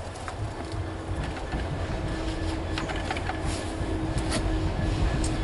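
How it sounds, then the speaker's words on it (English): A coal train rumbles past in the background, a steady low mechanical drone with faint clanks, while birds chirp over it and no one talks. "And we've just got a coal train coming down the back."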